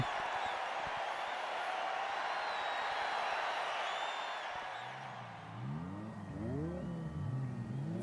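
A Cobra's engine revs loudly at the start of a race in Forza Horizon 5: a steady, dense roar that eases, then rises in repeated climbing sweeps as it accelerates, alone with no talk.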